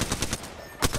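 Rapid bursts of light machine gun fire in Apex Legends, a string of close, loud shots at the start and another burst near the end, with a brief lull between.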